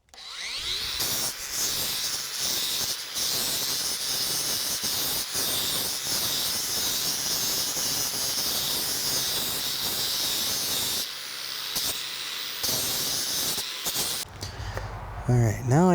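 An angle grinder fitted with a 40 grit flap disc shapes the edge of a woodworking piece, a loud, steady abrasive hiss and whine running almost without a break before cutting off near the end.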